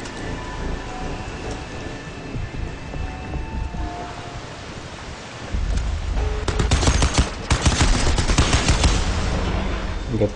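Rapid automatic gunfire from a weapon in the video game Crysis 3, loud and dense bursts of repeated shots that intensify in the second half, with crackling impacts and a rumbling background.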